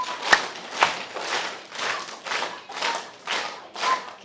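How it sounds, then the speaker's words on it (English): Patterned group clapping at an elementary school award ceremony, a steady run of about eight evenly spaced claps tracing a triangle of applause, moderately loud in a quiet room with no talking. "And a triangle of applause."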